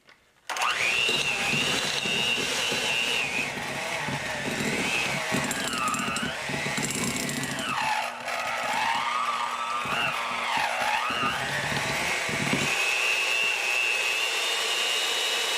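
An electric mixer beating four sticks of butter in a bowl, a loud, continuous whirring motor whose pitch dips and rises as it strains against the butter, running without talk.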